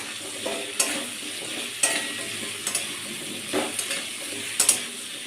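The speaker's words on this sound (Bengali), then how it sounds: "কুমড়ো, কিছুক্ষণ ভেজে নেব।" Diced potato and pumpkin fry in a pan with a steady low sizzle, broken every second or so by short clicks and scrapes of a stirring spoon against the pan.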